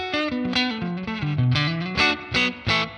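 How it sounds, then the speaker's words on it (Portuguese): Clean Fender Deluxe Reverb-style guitar tone from a Valeton GP-200 with spring reverb, single notes and chords picked up close, each attack trailing a short splashy spring tail. "Não pode faltar um reverb de mola."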